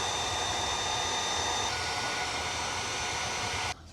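A heat gun blows a steady, loud whooshing roar while shrinking heat-shrink wrap onto trailer wiring, running continuously before cutting off abruptly near the end.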